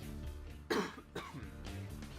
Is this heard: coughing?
yes